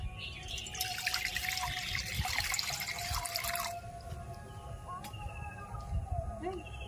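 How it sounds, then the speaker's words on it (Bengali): Water poured into a kadai (cooking wok) to set up a water bath for making homemade neem soap; a steady splashing pour runs close and fairly loud for nearly four seconds, then drops to quieter trickles and drips. "কড়ার মধ্যে জল দিয়ে দেব"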